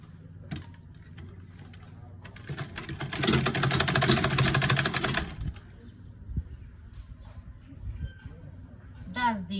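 A sewing machine stitches cargo pants in a dense, rapid whirring burst of a few seconds, with quieter clicks before and after it and a voice talking nearby.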